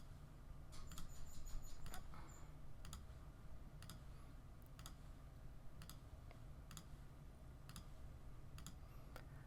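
Computer mouse clicks while working in Cricut design software, a series of sharp, separate clicks spaced roughly a second apart over a steady low hum, with no talking.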